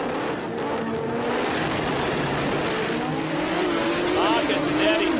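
Two 13B rotary-engined cars launching side by side in a drag race, a loud buzzing engine roar rising in pitch as they accelerate away, with a commentator's voice over the top.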